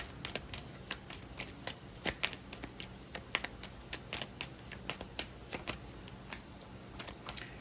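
A handmade card deck being shuffled up close, a rapid, quiet series of crisp riffling flicks and taps repeating steadily throughout, with no voices.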